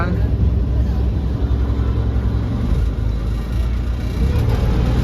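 Engine of a boat reversing and turning on Hussain Sagar Lake in Hyderabad, a steady loud low rumble with broadband water and motor noise throughout, talk faint underneath.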